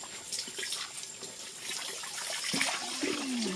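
Water splashes and pours during a bath, with intermittent close splashes and a louder dousing pour toward the end.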